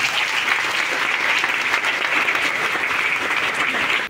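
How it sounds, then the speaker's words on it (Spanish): A dense, loud burst of applause from the crowd at a school graduation ceremony. It is steady and sustained, sits close, and cuts off abruptly just before the end. "Un aplauso."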